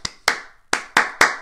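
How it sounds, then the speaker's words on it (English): Hand claps in a rhythm pattern during a kindergarten music lesson, five sharp, close claps in an uneven grouping with short gaps between. "their job is to take the words I'm giving them and turn them into claps"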